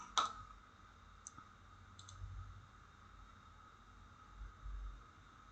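A single sharp computer mouse click at the start, followed by a few tiny faint clicks over quiet room noise.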